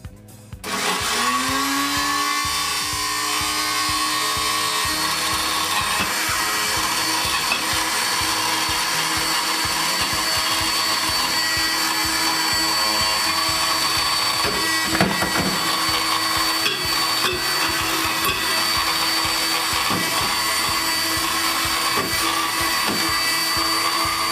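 A blender whirs loudly and continuously after a brief start-up, its motor pitch holding steady with occasional grinding clatters.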